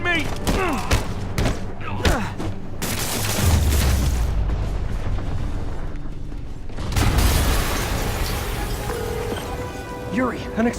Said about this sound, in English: an explosion just... I saw it.